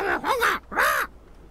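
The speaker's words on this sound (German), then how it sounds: "Netter Papagei." A parrot character in the video game Deponia lets out two loud, harsh squawks in quick succession, each a rising-then-falling screech, with no talking over them.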